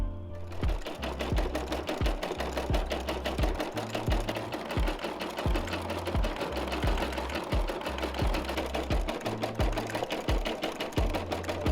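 An embroidery machine stitches a patch with thread, a loud, steady mechanical clatter of rapid needle strokes running without pause throughout, with no talking.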